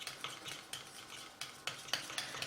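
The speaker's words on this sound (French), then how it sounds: "Et je remue à nouveau." A spoon stirs a homemade firming body cream mixture in a container, making soft, close scraping and light clinking strokes in an uneven rhythm, quiet and without speech.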